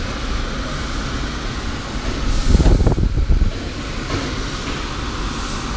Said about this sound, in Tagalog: May hangin din dito, malakas.